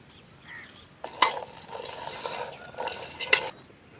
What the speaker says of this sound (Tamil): அரிஞ்சு வச்சு பெரிய வெங்காயம் நாக்கலாம் கொட்டிக்கலாம் வெங்காயத்தை நல்லா இப்படி உடச்சி விட்டுக்கலாம்